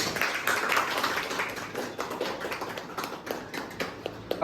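A small staff group claps at a farewell send-off for a worker, a steady patter of hands close by with no one speaking over it.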